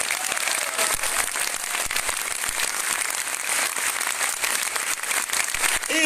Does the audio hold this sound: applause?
yes